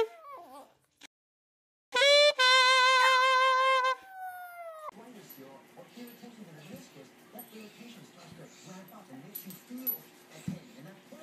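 A stretching dog lets out a high, wavering whimper lasting about two seconds, with short squeaks around it, followed by a person speaking softly at close range.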